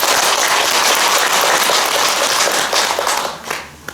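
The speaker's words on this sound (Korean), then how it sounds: "스님들께 박수 한번 해드립니다." Audience applauding monks at a Buddhist temple dharma talk, loud sustained clapping from a crowd that thins and fades out toward the end.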